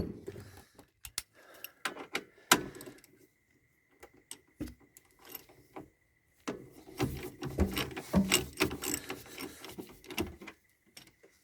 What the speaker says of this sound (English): in with the 14mm ratchet and an extension, or no extension.